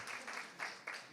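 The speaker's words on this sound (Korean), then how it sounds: "다 같이 박수 한번 치면서 시작하도록 하겠습니다" A session audience at a youth sustainability forum claps in a short, steady burst of applause, rising and falling in a few quick swells with no speech over it.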